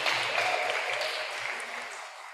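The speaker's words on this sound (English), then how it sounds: "please give a round of applause for Professor Zehetner" An audience at a university engineering seminar applauds a professor, a soft broad wash of clapping that holds steady and then slowly fades, with faint voices murmuring underneath.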